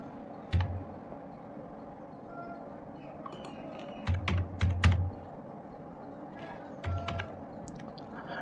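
An OTP is entered on a computer keyboard while filling in an online application form: quiet room tone broken by a single keystroke, then a quick cluster of taps, and later another short pair; no voices.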